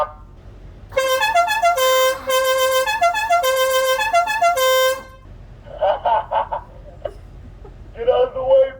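Aftermarket musical horns on a car play a loud, close multi-note melody in honking tones for about four seconds, followed by a few shorter, rougher honk bursts.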